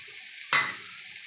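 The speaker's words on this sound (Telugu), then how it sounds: "అటువైపు ఇటువైపు కూడా ఫ్రై అయిపోయండి" Fish fries in a pan on a gas stove at low flame, with a brief burst of sizzling and a soft clatter over a steady quiet hiss.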